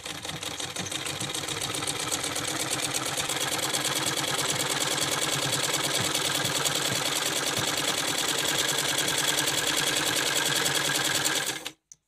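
A sewing machine stitches long fabric strips for a jumpsuit, running in one continuous fast mechanical whir with a rapid needle clatter for about twelve seconds before stopping abruptly.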